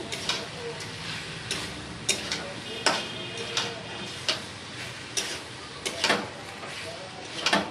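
Chicken fries in a pan with a steady background sizzle, broken by repeated sharp clicks and scrapes as it is stirred at an irregular pace, with faint talk mixed in.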